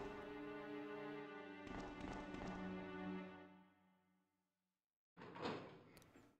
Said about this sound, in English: Here's a door.